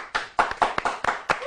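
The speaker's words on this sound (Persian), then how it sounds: "بچه‌ها یه دست براش بزنی." Studio audience on a comedy interview show claps for a guest: a short burst of uneven hand claps, close and fairly loud, with no talking over it.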